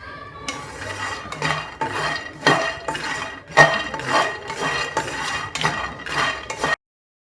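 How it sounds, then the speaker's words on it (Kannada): Peanuts being dry-roasted in a pan over a low flame, stirred with a utensil: repeated scraping and rattling strokes of nuts against metal, close and fairly loud, in an irregular rhythm with no talking. "ಶೇಂಗಾನ ಲೋ ಫ್ಲೇಮಲ್ಲಿ ಇಟ್ಕೊಂಡು ಕೈ ಬಿಡ್ದೇನೆ ಇದನ್ನು ಚೆನ್ನಾಗಿ ಹುರ್ಕೊಳ್ಳಿ."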